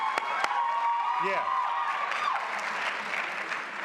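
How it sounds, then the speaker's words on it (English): An audience claps steadily at a spring commencement ceremony, with a voice speaking briefly over the start of the applause. "Yeah, we can go and clap for Ruby, right?"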